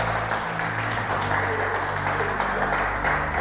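Church congregation applauding during a sermon, a steady wash of clapping at moderate level over a low background hum.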